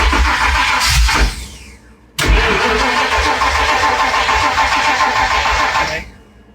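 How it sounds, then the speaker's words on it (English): A Ford Ranger with a modified exhaust cranks briefly, cuts out, then fires and settles into a loud, rough idle for several seconds before shutting off, heard close with no talking. "Now try to start it."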